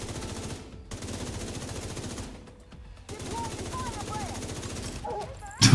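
Gunfire in The Division 2 from a scoped rifle: sustained rapid bursts interrupted by short silent gaps, with a louder crack at the end and a voice heard briefly partway through.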